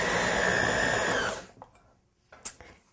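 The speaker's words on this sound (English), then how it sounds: "So last mix, mixing through with the hand mixer." An electric hand mixer whirs steadily through stiff vegan chocolate chip cookie dough, then cuts off, leaving a few light clatters and knocks in near silence.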